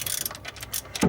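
A small torque wrench ratcheting on the cam belt gear of a 1985 Ferrari 308 QV or Mondial QV: a quick run of close, crisp mechanical clicks ending in a louder metallic clunk.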